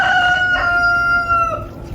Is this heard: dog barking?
no